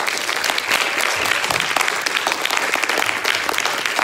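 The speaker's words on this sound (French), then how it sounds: "on peut l'applaudir encore une fois très très fort." Loud, dense audience applause at a music show of student workshops, sustained throughout with steady crackling claps from a full room and no talk.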